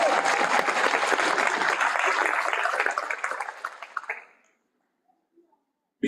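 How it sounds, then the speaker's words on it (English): A graduation ceremony crowd applauds a graduate, loud sustained clapping that thins and fades out, leaving silence before a brief sound at the end. "Let's give Mukumani a round of applause."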